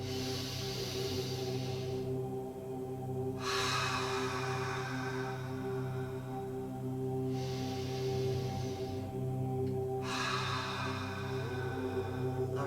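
Slow yogic breathing, deep breaths in and out in a long even rhythm, is heard as soft airy rushes over a steady low hum in a quiet room.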